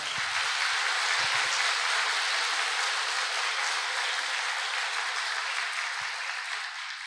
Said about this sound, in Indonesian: kita kasih tepuk tangan yang paling meriah untuk upline-upline kita semua